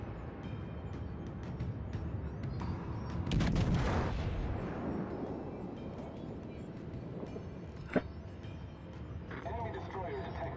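A deep naval gun salvo booms in the World of Warships game, with a heavy rumble swelling midway under steady game noise, a sharp later report, and someone talking excitedly throughout.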